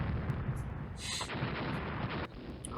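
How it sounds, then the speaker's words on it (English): In a Rule the Waves naval battle, a ship is struck by a torpedo, a muffled boom amid a rumbling backdrop of distant gunfire and scattered thuds. "Hit by a torpedo."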